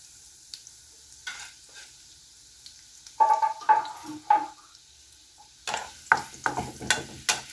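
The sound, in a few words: garlic and onion frying in hot oil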